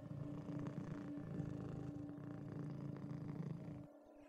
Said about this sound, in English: God, that kitten's got a great purr.